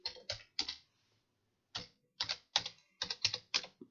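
Quick, light key clicks on a computer keyboard come in two short runs separated by a brief pause, close and fairly quiet.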